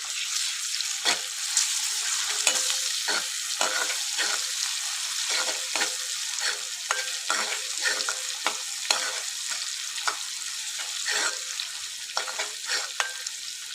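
Turmeric and ginger-garlic paste fry in a pan for a Telugu dal dish, a bright continuous sizzle broken by repeated scraping stirs, close and steady throughout.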